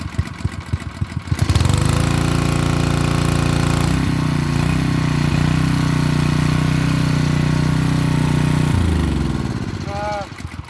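A pressure washer's small engine, set on half choke, catches after a pull and runs at a steady loud idle for several seconds, then dies away near the end, leaving a short faint tail.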